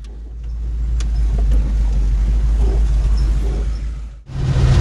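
A new engine in an extreme off-road wrecker rumbles loudly and steadily, with a deep low drone that briefly dips before revving back up, heard close with no voices.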